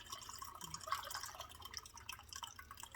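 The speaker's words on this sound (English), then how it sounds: "I'm thinking I'm going to add another cup of broth" A cup of broth poured into a one-pot meal simmering in a pot gives a faint, soft trickling and dripping of liquid that runs continuously for a few seconds, with no talking.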